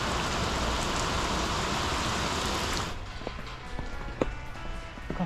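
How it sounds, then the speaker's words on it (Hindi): Heavy rain pouring down on a trip through the hills of Arunachal Pradesh near Tawang, a dense steady roar that suddenly drops to a lighter patter with scattered drops and small knocks. "बारिश तेज़ हो गई है"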